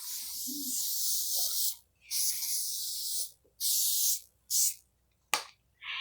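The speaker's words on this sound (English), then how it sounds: "I'm going to finish up with my brush through spray." Several long hissing bursts of a hair brush-through spray bottle, close and loud, separated by brief silences, with a sharp snap near the end.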